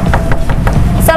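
Quick, close knocks on a house door, several raps in an irregular run over a steady background murmur.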